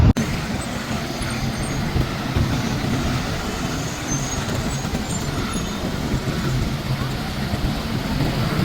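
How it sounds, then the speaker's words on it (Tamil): Busy road traffic in Colombo around Christmas time near Galle Face, a steady dense rumble of cars, buses and trucks with no breaks, fairly loud and continuous throughout. "அந்தளவு டிராஃபிக் இருக்குது."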